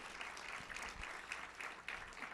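Audience applause at a CreativeMornings New York talk, a steady wash of clapping from a crowd heard at a low level for a couple of seconds with no voices over it.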